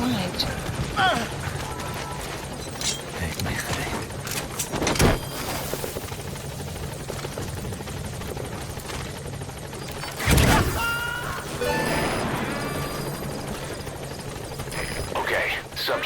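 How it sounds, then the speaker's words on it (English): Support helicopter arriving in Metal Gear Solid V, a steady rotor drone running throughout under in-game radio voices, with sharp bursts of gunfire and impacts breaking in. "Support helicopter has arrived."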